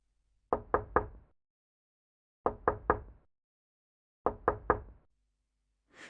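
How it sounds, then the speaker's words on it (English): Knocking in a horror story about a haunted campsite at midnight: three spaced bursts of three sharp raps each, close and loud against silence, with a faint new sound starting at the very end. "Around midnight, the knocking returned."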